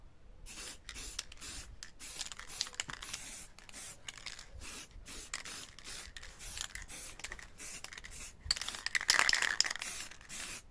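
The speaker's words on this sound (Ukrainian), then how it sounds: "Фарбував полівізатором" Bursts of hissing spray from a sprayer applying leftover enamel paint to a potato digger, repeated on-off pulses at close range with short gaps, with a faint clink near the end.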